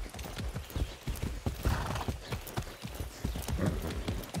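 A horse in the video game Far Cry 6 gallops through rough mountain terrain, its hooves clopping in a steady, loud rhythm, with a whinny rising partway through and continuing game sounds underneath.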